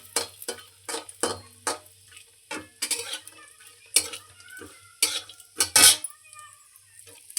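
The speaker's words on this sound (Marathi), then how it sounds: "पहिला आपण काजू किशमिस आणि मखाण्याला भाजून घेऊया" Cashews, raisins and fox nuts (makhana) dry-roasting in a pan, with a spoon scraping and clattering against the metal in irregular strokes over a faint sizzle, close and moderately loud.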